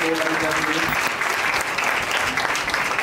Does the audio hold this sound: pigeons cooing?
no